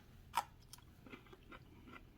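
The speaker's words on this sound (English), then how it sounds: "so it's still got a nice crunch to it" Biting into crunchy grilled asparagus: one crisp snapping bite followed by a few quieter chewing crunches, close and faint.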